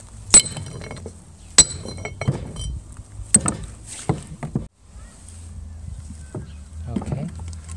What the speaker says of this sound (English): Knock the inner bearing out from the outside in.